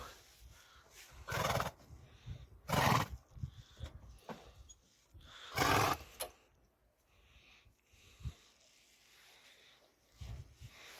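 Several loud, close whinnies from a draft horse, with quieter gaps and a few soft thumps in between.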